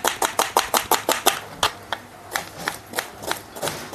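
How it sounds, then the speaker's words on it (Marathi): An onion is chopped finely on a board with a knife, giving a quick run of sharp, close knocks that slows into more spaced strokes. "तो पटापट आपण चॉपिंग करून घेतो आहे"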